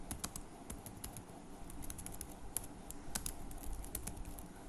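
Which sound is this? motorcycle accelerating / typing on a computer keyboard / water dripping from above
typing on a computer keyboard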